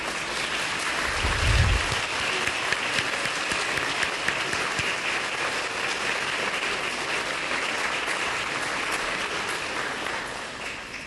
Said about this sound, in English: please stand so that we can give you a round of applause as well